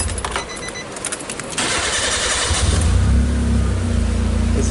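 A swapped-engine Nissan Sunny with an intermittent crank-no-start fault cranks with a rapid whirring starter, then catches and settles into a loud, steady idle, all close to the car.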